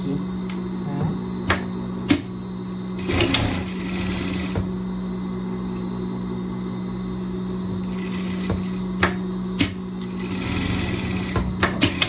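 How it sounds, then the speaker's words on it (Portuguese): A sewing machine stitches a seam on a pet dress, running in short whirring bursts with a steady motor hum throughout and sharp clicks between runs, close and fairly loud. "Passar a costura aqui, tá?"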